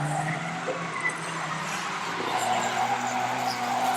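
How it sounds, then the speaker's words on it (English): Stock car tyres screech continuously on a race track near the main stand, a steady, loud skidding squeal lasting several seconds. "The screech of the tyres rings around the main stand."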